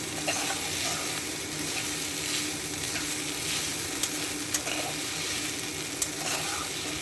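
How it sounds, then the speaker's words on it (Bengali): Flattened rice (chira) frying slowly in a pan for chira pulao, a steady close sizzle running throughout with a few faint clicks of stirring. "এটাকে একটু ধৈর্য ধরে ভালো করে আস্তে আস্তে ভেজে নিচ্ছি"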